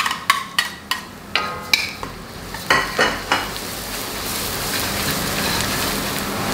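Shallots and garlic frying in a pan for capcay: a run of loud, sharp spatula clanks and scrapes in a quick rhythm, then a steady, rising sizzle takes over alone.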